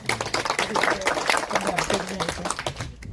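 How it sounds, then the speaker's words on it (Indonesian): A small audience claps at a community forestry and business collaboration meeting, uneven and fairly close hand claps in a short burst that thins out at the end, with voices mixed in. "Artinya tepuk tangan buat kita semua ya."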